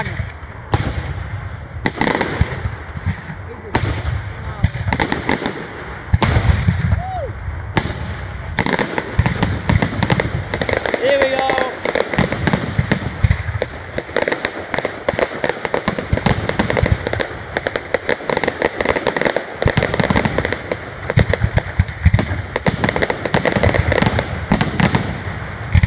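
Northallerton fireworks display in 2019, a long, loud run of booming bursts and crackling firecracker volleys, dense and rhythmic, with occasional whistles rising between the explosions.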